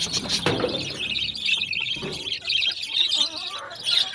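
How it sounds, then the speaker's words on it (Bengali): Pet birds in a cage chirp and twitter continuously, with bright, overlapping high calls close by and a few soft knocks in the background, and no one speaking. "চলো আমরা আমাদের পাখিগুলোকে একটু দেখে আসি"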